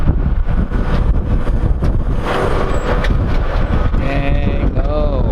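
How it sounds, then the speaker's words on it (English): Strong outdoor wind buffets the microphone in loud, rumbling gusts throughout, with a few brief voices and clanks around an auction pickup truck, a Silverado Z71. "Man, it is windy and terrible out here."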